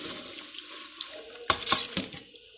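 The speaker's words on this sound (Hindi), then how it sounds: "चावल ऐड करेंगे" Rice poured into boiling strained mutton yakhni broth for yakhni pulao, giving a short burst of splashing and rattling grains after a quiet simmering background.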